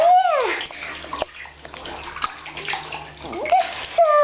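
Water sloshes and splashes in a pool in the Webkinz video game, with repeated bursts of movement and splashing, and high playful cartoon voices chirping over it.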